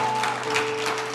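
A church congregation applauds in praise, a dense steady patter of clapping that fills the room at moderate level, with a sustained tone beneath it.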